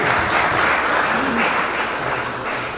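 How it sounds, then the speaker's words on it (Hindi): A congregation at a gospel meeting in Hounslow breaks into sustained applause, a loud, even roar of many hands clapping with some voices mixed in beneath it. "लेकिन आपने तालियां बजाई"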